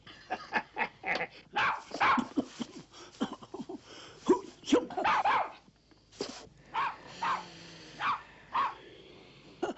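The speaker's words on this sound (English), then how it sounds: "I thought I heard a dog myself." A dog barks and yips repeatedly at close range in short irregular bursts, with some whimpering between barks and brief voices mixed in.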